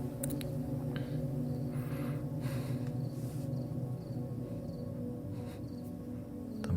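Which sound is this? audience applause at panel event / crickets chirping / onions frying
crickets chirping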